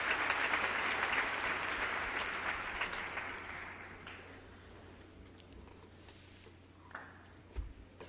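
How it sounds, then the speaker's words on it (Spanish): Audience applause at a debate on whether the universe has a purpose, loud dense clapping at the start that gradually thins and fades, with a few scattered claps and a faint voice near the end. "Let's give him a warm round of applause."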